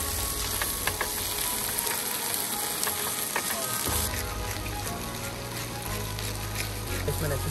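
Food frying in ghee in a pan, a steady close sizzle with occasional stirring clatter running the whole time, somewhat busier in the second half.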